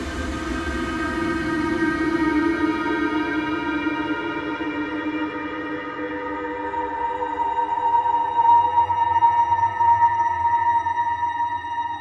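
Sound processed through a Spectral Drone Maker plugin becomes a dense, sustained drone of layered humming tones with echoing, slowly shifting overtones, continuous and fairly loud.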